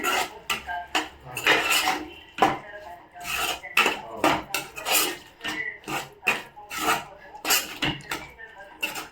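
Potato curry with yogurt being stirred in a pan, busy metallic scraping and clinking of a spoon against the pot in quick uneven strokes, close and loud with no voices.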